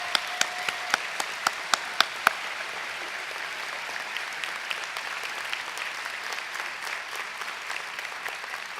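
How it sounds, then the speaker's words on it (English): A commencement ceremony audience applauds at length, a dense and even wash of clapping with a few sharp individual claps standing out near the start. "Let's give them a big round of applause."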